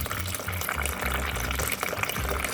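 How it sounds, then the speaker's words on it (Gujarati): Half a kilo of white chickpeas is washed in water, with splashing, sloshing and gushing water sounds running steadily and fairly loud throughout, close by and with no voice. "આ ચણાને મેં એક સરસ પાણીથી ધોઈ નાખ્યા છે."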